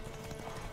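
Horse hooves clip-clopping at a gallop in The Witcher 3, a brief, steady rhythmic patter of game audio with no talk over it.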